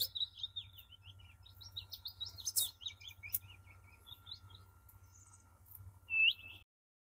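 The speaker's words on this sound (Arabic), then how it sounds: "لو احنا شغالين صوت طائر زي اللي معانا ده هتبقى اغلبيه الطيور من النوع ده" Chirpy, high-pitched bird calls played back to lure migratory birds, repeated tweets and trills at moderate volume over a steady low hum, ending with a sharper louder call before silence.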